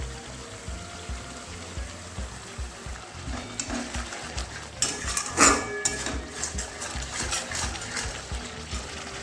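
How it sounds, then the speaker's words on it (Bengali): Turmeric and chili powder spice masala stir-fried in a pan for egg curry, with a steady soft sizzle, scraping spatula strokes and a few sharper clinks of utensil against the pan, growing busier midway. "হলুদের গুঁড়ো এ ভালোভাবে মশলাটাকে কষিয়ে নেব"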